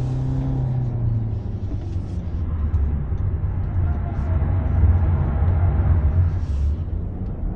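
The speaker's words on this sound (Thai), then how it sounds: "มีเสียงเวิร์ดขึ้นมานี่คือแบบน่าจะเสียงยางนะ" Steady low road and tire roar from an MG3 Hybrid+ hatchback driving at speed, a continuous rumbling hum that swells slightly midway, with faint talk inside the cabin.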